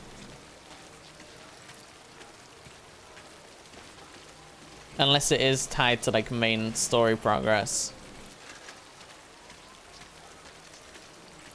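Steady rain falls in the video game Death Stranding, a soft continuous hiss throughout. Someone talks for a few seconds in the middle over it.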